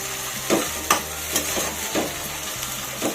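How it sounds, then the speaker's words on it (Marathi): Curry leaves and mustard seeds fry in a pan for a Mumbai-style vada pav, a close, continuous sizzle broken by rhythmic spoon scrapes roughly every half second. "कढीपत्ता चांगला भाजून मग त्याच्यात मोहरी टाकायची."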